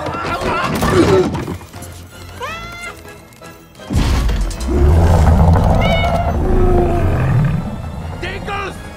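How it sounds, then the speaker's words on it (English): Monster pet cat meows and yowls repeatedly in a cartoon scene, the cries rising and falling among loud crashes, growls and excited voices. "Oh, it's a cat!"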